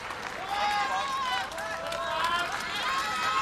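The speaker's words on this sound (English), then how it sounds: "Can't help when you start to hear the crowd." A crowd at a 2005 World's Strongest Man heat cheers and shouts continuously in a loud, sustained roar, with overlapping excited voices rising and falling.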